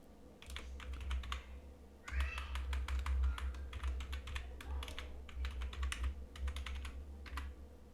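Quiet clicking of a computer keyboard as a new password is entered at a Kali Linux prompt, with several quick bursts of keystrokes and short pauses, close and soft over a low steady hum.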